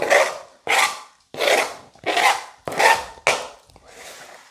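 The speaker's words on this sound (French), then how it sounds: "comme l'épluchage de carottes, c'est assez ingrat quand même" Carrots being peeled with rhythmic rasping strokes, six loud close scrapes spaced about half a second apart, each a rough burst, with a softer, longer scrape at the end.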